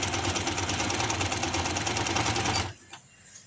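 A sewing machine stitches fabric in a fast, steady mechanical whirr for a few seconds, close and loud, then stops abruptly.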